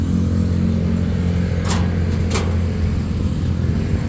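An Isuzu HG1 engine runs with a loud, steady mechanical drone close up. Two brief higher-pitched ticks break through partway, and no one speaks.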